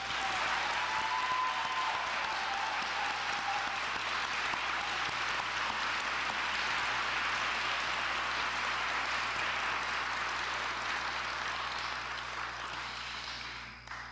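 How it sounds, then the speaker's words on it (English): Sustained audience applause fills city council chambers after a mayor's farewell call to honor a colleague, a dense steady clatter of many hands that holds loud for about twelve seconds before beginning to thin at the end. "let's give him a well-deserved round of applause"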